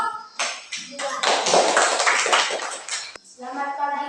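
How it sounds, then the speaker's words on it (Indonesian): Brief burst of applause from a classroom of students, clapping together for about two seconds before tapering off, with voices heard before and after. "Kita tepuk tangan untuk kelompok."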